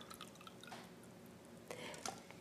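Water poured into a glass container in a home demonstration, faint trickling and splashing with a few brief louder bursts near the end, heard alone.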